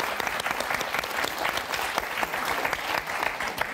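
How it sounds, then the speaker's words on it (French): A studio audience on the French game show Motus applauds steadily, a dense, even wash of clapping that runs throughout without a break. "Maggie, Sophie, on vous applaudit très fort."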